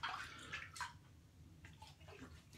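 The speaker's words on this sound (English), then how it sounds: "quick rinse of the face." Water splashes softly as a face is rinsed after a shave, in brief, faint bursts of splashing and dripping heard close by.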